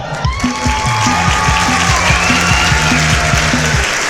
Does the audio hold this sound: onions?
no